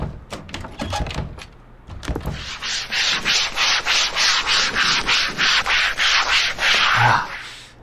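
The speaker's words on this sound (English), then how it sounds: "Is it just me, or is it that noise? That scrubby noise." Steady rhythmic scrubbing strokes from the horror video game Chores, about a dozen harsh back-and-forth rubs in a regular beat, loud and close, after a few brief knocks at the start.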